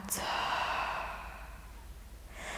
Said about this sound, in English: Big inhale through the nose, filling up the lungs. Breath moves down into the lower belly. Feel the expansion. And a big exhale out.